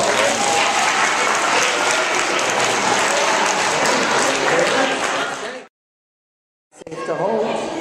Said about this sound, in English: Everybody, can we clap?